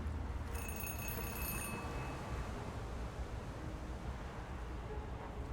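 Payphone in the video game Zero Parades rings in a short metallic bell burst that fades and decays into a steady, wind-like ambient wash, with no talking.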